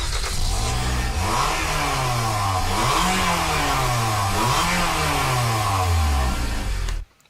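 A Toyota car engine revs loudly, pitch climbing and dropping in several sweeps, steady and close, then stops suddenly.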